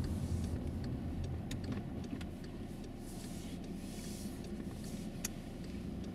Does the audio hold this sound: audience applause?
no